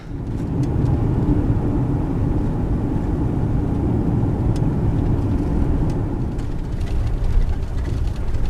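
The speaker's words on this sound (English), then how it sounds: "Driving through this nice little park here." An SUV drives through a county park in southern Idaho, a loud steady low engine and road rumble heard from inside the cabin, with no change in pace and no one talking.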